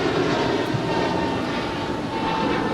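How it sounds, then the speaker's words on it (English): An American Airlines Airbus A321neo departs Los Angeles LAX for Honolulu, its engines giving a steady, moderately loud roar with no voices over it. "This is American 31 departing to Honolulu. It's an Airbus A321neo."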